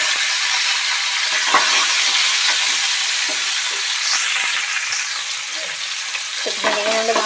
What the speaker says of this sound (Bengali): তো ভেন্ডিগুলো আমরা ভালো করে ভেজে নেবো।